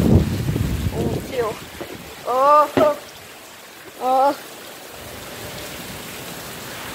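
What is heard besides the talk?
Hurricane Michael wind and rain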